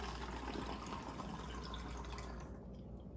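One cup of water poured through a funnel into a bottle while mixing a homemade household cleaner, a steady close trickle and splash that runs for about two and a half seconds and then stops.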